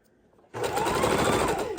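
A sewing machine starts up abruptly after a quiet moment and runs a steady, fast whirring hum while stitching its widest, longest zigzag over leftover quilt batting, close and alone.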